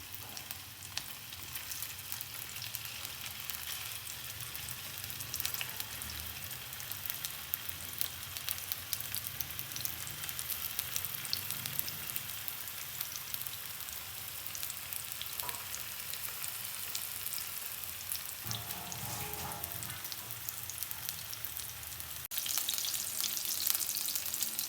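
Chicken golla kabab frying in a pan, a steady, even crackling sizzle that runs unbroken for the whole stretch, fairly quiet and close, with a brief brighter hiss near the end and no talk.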